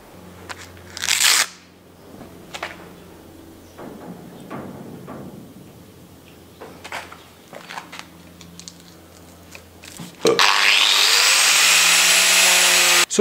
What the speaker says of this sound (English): take the weight of the grinder, let the grinder do the work